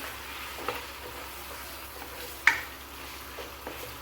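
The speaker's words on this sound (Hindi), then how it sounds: "आधा किलो चिकन हम इसको डालेंगे, और इसको अब थोड़ी तेज़ आंच पे हम 1 से 2 मिनट फ्राई करेंगे" Half a kilo of chicken frying over high flame with ginger and garlic, a faint steady sizzle with a few soft clicks and one sharper tick partway through.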